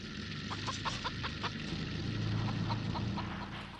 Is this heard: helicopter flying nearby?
no